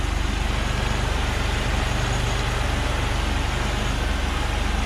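A Chevrolet Camaro with 199,000 miles idles after a cold start, a loud, steady, close engine rumble with even pulsing and no talk.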